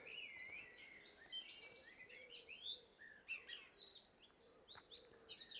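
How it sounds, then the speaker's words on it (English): A wren singing in a patch of wet woodland near the coast, a rapid string of high trills and chirps repeating over several seconds, fairly faint against a quiet background. "There's a wren."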